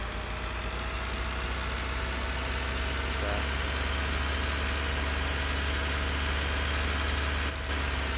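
Steady idling drone of tractor engines in Farming Simulator 2013, a continuous low hum with constant pitch, moderately loud, with a brief faint chirp partway through.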